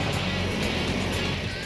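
A scrap-built snow vehicle's engine roars steadily while its screw churns and throws out snow, a dense continuous rumble and hiss with no pauses, close and loud throughout.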